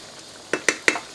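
Chicken stew, dakbokkeumtang, in a pot being stirred, three quick close clinks and scrapes of a utensil against the pot in a quick rhythm, with no talk.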